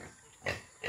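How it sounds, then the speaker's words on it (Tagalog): A native hybrid pig on a farm gives two short grunting oinks in quick succession, fairly close and alone without talk. "Ayan yung aming baboy"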